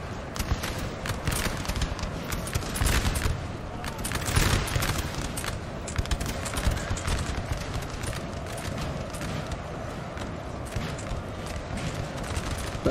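Musket volley fire from a Napoleon Total War 3 4v4 battle at Znaim, with many shots blending into a dense, steady crackle that swells briefly midway and carries on without pause.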